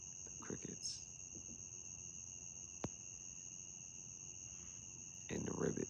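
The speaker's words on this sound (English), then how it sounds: "are those crickets, right?" Crickets chirp steadily at night as a continuous high, even trill that persists throughout, with a few brief low rustles and a short sharp click in the middle and a louder burst of noise near the end.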